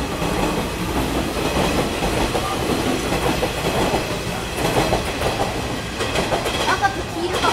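An electric Nishitetsu train rolls past close by on the rails at Futsukaichi Station in Fukuoka, Japan, a continuous rumble with rhythmic clickety-clack from the wheels and a faint metallic whine.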